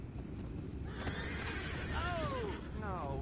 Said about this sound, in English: You mind the horses?